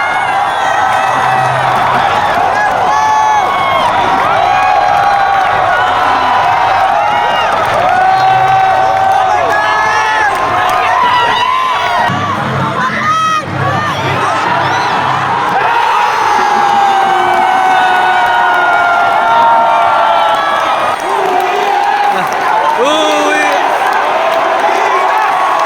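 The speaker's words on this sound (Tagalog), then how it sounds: "Nagkagulo ng crowd, grabe." A large crowd of Filipino and Saudi basketball fans roars and cheers after Brownlee's game-tying three-pointer, with whoops and shouts rising in a loud, sustained wall of noise.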